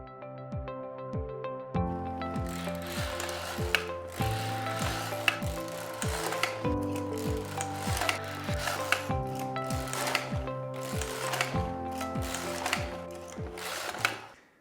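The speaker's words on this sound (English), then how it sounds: "And now I can knit the left shoulder the same way as the right shoulder, only exactly opposite." A Passap Duomatic 80 knitting machine works a sweater shoulder, its carriage sliding back and forth in rhythmic mechanical passes with ratcheting clicks and whirring, close and steady, with no speech.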